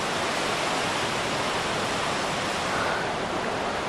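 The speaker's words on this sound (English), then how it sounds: "Can you hear the thunderous water?" Thunderous rushing water at Crummock Water in the Lake District, a loud, unbroken roar of torrent noise filling the whole moment, close and constant with no speech over it.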